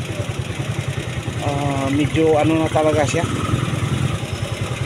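A hard-starting engine with a battery that keeps draining runs at a steady, rhythmic chug. Someone talks over it, and the engine note wavers a little partway through.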